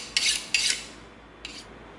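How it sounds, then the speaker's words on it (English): A box cutter blade is sharpened with three short rasping strokes, two close together and a fainter one after a pause, in an otherwise quiet room. "So we're gonna sharpen our box cutter."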